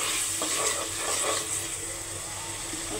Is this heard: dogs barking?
no